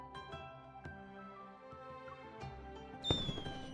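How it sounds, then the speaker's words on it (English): Distant fireworks in a night scene of a video game, a few dull pops and crackles scattered over steady background music, ending with a sharper whistling burst. "Distant fireworks suddenly illuminate the night sky."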